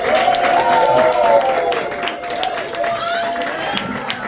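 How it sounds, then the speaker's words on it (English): A Greenville crowd greets Deep Dive as he comes on stage, with full, lively applause that thins a little toward the end while a voice talks over it. "Let's give him a roll of applause."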